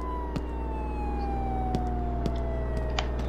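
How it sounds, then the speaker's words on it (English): An ambulance siren in the emergency-services game Flashing Lights wails steadily with a slowly falling tone, close and continuous over a low engine drone, with a few sharp clicks along the way. "There's the ambulance."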